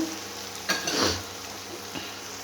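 Onions fry in a pan, giving a soft, continuous sizzle with a brief louder burst of crackling, heard alone and close by.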